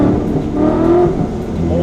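Procharged 700 whp Gen 3 Coyote Mustang GT with a 10-speed roaring steadily through a rolling pull, loud and close from inside the car, with voices talking over the engine.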